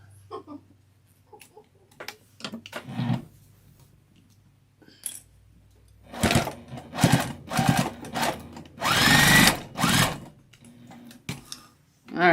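Home sewing machine stitching the handles onto a tote bag, running in several short loud bursts separated by pauses, with quiet handling noises and a little talk between runs.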